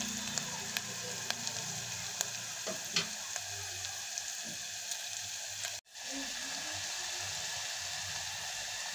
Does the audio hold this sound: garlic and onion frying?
yes